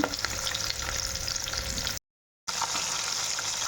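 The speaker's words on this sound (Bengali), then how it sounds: "এইভাবে মাছগুলো কিন্তু ভেজে নেব" Tengra fish fry in hot oil with a dense, bright crackling sizzle, close up and steady, cut by a brief gap of silence before the frying resumes.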